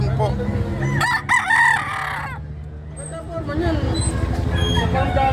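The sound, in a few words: native roosters crowing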